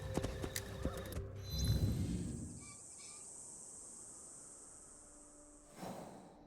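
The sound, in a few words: horse clip-clopping and neighing in video game Assassin's Creed Shadows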